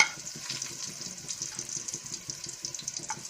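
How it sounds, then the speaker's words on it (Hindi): Browned onions sizzle in a pan while a potato curry is cooked, a soft steady crackle with irregular small pops and stirring scrapes, quiet and close, with no talk. "अब हमारा प्याज ब्राउन हो गया है।"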